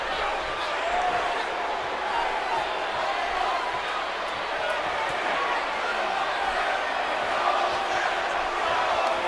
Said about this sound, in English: Crowd chant for Kill Owens, Kill, man